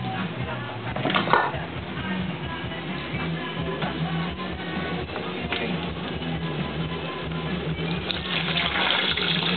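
Water runs steadily from a tap into a container in a home in Korea, a continuous gushing splash that holds for several seconds, with faint talk in the background.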